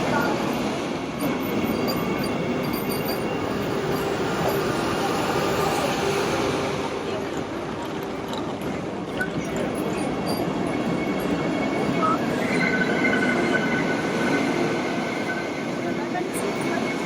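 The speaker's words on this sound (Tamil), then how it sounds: "இதுதான் வந்து நம்ம போகக்கூடிய வந்தே பாரத் ட்ரெயின்" A Vande Bharat express train rolls along on a Bangalore to Chennai run, with a continuous rumble, faint wheel squeal and track clatter close by over 17 seconds, and indistinct voices murmur in the background.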